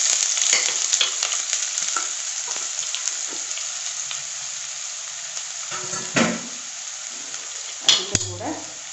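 Finely chopped onion fries in hot oil in a pan for a mushroom Chettinad masala, a steady close sizzle throughout with occasional stirring clatter and a couple of sharper knocks near the end.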